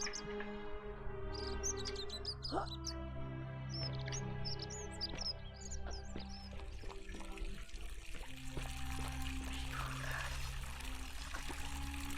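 Flowing water in the game The Forgotten City, a steady pour running continuously beneath a layered ambient music bed with faint bird chirps, no talking.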